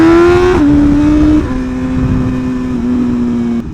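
A motorcycle is ridden and recorded on a DJI or GoPro action camera, its engine a loud steady drone with a few gear-change steps in pitch, close to the camera and alone.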